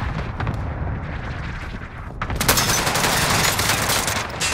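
Cluster strike explosions and rapid gunfire from the Call of Duty: Modern Warfare video game roar as a dense, continuous barrage that swells louder and harsher about halfway through.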